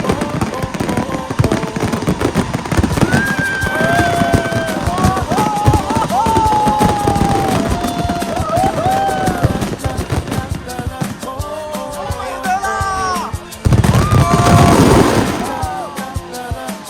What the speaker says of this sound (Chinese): 剑湖山的烟火很漂亮、很近